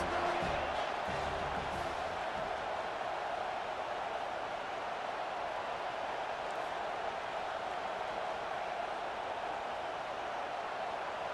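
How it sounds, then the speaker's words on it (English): A stadium crowd at a college football game roars in a continuous broad wash of noise, steady and sustained, with faint commentary at the very start. "Third down, and this crowd is tearing the lid off this place."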